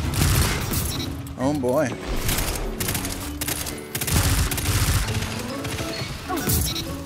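Loud, rapid gunfire from a Destiny Iron Banner match crackles in dense bursts with crashing impacts, and a commentator talks over the shooting.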